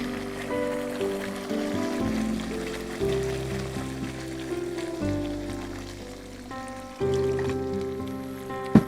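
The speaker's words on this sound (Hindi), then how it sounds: "अब इसमें डालेंगे नमक और पानी।" Water is poured into a pan of kofta curry gravy in a kitchen, a steady splashing, trickling stream heard over background music.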